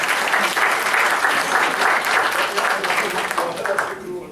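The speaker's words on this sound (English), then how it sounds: "Give them a round of applause for coming up." A live audience at a leadership talk gives a round of applause, dense clapping at a loud, even level that thins toward the end, with a voice briefly audible beneath it.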